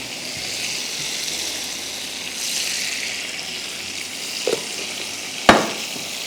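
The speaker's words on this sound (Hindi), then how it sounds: "थोड़ा सा पानी डाल रही हूँ" Schezwan crispy frying in a pan with Schezwan sauce and a little water, giving a steady close hiss of sizzling with soft stirring and two sharp utensil knocks near the end.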